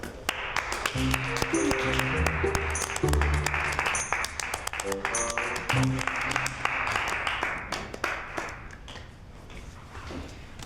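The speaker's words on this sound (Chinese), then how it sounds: "来，让我们一起给甄高贵一点掌声。" Office colleagues breaking into a round of applause, brisk claps that swell and then thin out, with a few voices and background music under the clapping.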